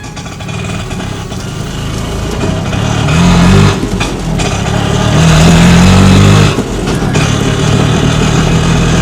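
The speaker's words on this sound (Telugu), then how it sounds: "రాజా ఆటోని అలగాపురికి నడిపాడు" An auto rickshaw drives along, its engine droning steadily and loudly close by, with the pitch rising in two stretches as it speeds up before settling back.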